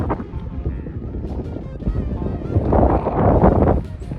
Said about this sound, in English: Windy as shit.